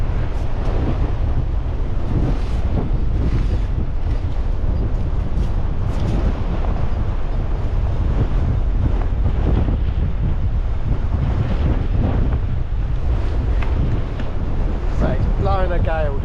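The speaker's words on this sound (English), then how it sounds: "So it's blowing a gale down here, 50-mile-an-hour winds they've given for today." A gale of around 50 mph roars across a beach, buffeting the microphone in constant loud gusts while waves and surf crash underneath.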